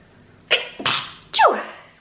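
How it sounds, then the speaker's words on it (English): A single person sneezes three times in quick succession, each burst sharp and close with a noisy rush trailing off, the last one the loudest and longest, with no talking. "I'm going to sneeze."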